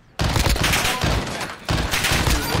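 Sustained automatic gunfire in Call of Duty: Modern Warfare Gunfight 2v2 mode, two long loud bursts of rapid shots close up with a short pause between, no talk.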